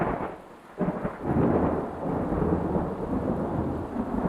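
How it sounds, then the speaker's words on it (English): Thunderstorm with heavy rain: a deep rolling rumble of thunder swells over steady loud rainfall that continues throughout, no voices. "It started raining so hard"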